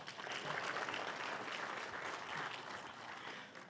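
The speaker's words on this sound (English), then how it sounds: "Can we give her a round of applause?" A symposium audience gives a speaker a round of applause, a steady, fairly distant wash of many hands clapping that holds throughout and eases slightly at the end.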